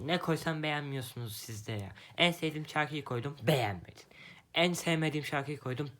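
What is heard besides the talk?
No distinct noise like a dog, phone or traffic.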